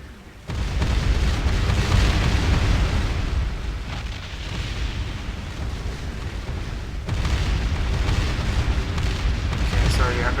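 Missile explosions in the space strategy game Distant Worlds: a dense, continuous roar of booming blasts and rumbling bursts, loud and steady for about ten seconds with a brief dip near the middle.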